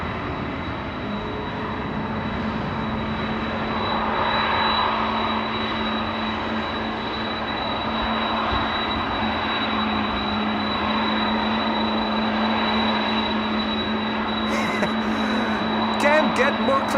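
A KLM Boeing 747 jet at Schiphol airport, a steady broadband engine roar with a sustained whine, holding fairly loud and constant throughout with no talk over it.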